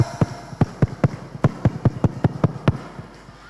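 Schoolchildren at an elementary school scout character camp doing a scout clap chant: a group claps about a dozen sharp, rhythmic beats in a quick patterned sequence, then stops.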